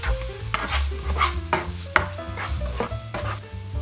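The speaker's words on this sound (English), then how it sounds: "first I'll put in the ham. Give it a bit of a stir." Ham sizzles in hot oil in a pan while it is stirred, with a steady frying hiss and repeated scraping and clinking strokes, close and clear, with no voices.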